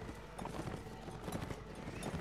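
Horse hooves clip-clop in a rapid, uneven gallop inside a Middle-earth battle video game featuring a Rohan rider, with busy battle ambience around them.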